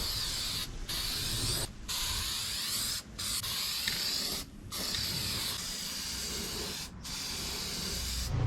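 An aerosol can sprays paint onto a 2022 Kawasaki KLR650 SW Motech skid plate in close, loud hissing bursts of one to two seconds, split by five short gaps as the nozzle is released.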